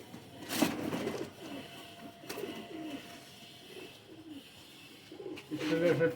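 Kasuri pigeons, a hard-bodied pigeon breed, coo in soft intermittent bursts at close range, with someone speaking at times over them.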